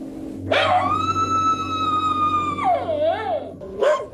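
A dog left behind in Iitate village, in the Fukushima evacuation zone, gives a single long howl that starts with a sharp yelp and wavers down at the end, followed by another short yelp.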